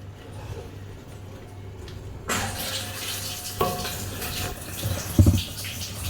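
Water runs from a tap during a broken toilet bowl replacement, starting suddenly after a quiet moment and then flowing steadily and close, with a few knocks and splashes.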